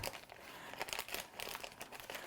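A plastic zipper-top freezer bag is flipped open, giving a close, continuous crinkling and rustling of plastic for a couple of seconds, fairly quiet and without talking.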